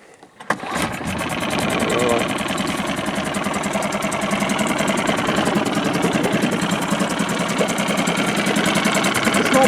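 A Suzuki DF 6HP outboard motor fires up after a short start and settles into a steady, loud running drone with a fast mechanical knock, close by.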